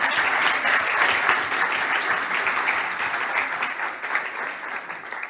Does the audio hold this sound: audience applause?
yes